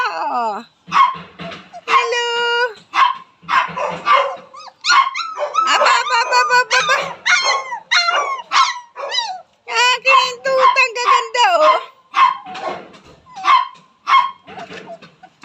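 High-pitched yips, barks and whimpers from young dogs come in rapid bursts, close by, mixed with excited human voices.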